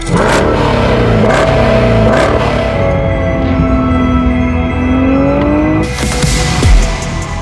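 A car engine drones loudly and steadily, its pitch rising and falling as it revs, with a brief clatter near the end.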